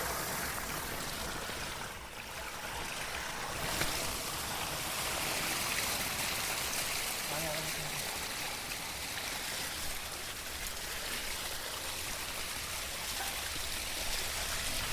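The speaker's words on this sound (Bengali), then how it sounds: "পুরো জল একদম ঝর্ণা ঝর্ণা" Water pours and splashes steadily like a fountain, a continuous broadband gush close by with no talk, used to wash an electric scooter.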